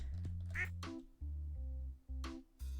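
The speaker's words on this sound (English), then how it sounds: "Why does that sound like a duck?" A duck in the farming game Stardew Valley quacks in a series of loud, nasal calls spaced through a short stretch, sitting close and clear over low game background sound, with no one talking.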